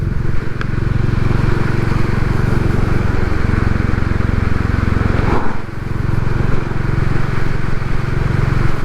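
A Royal Enfield Classic 350 motorcycle rides steadily on the road, its thumping single-cylinder engine and wind rumble loud and continuous throughout, with a brief dip in level midway.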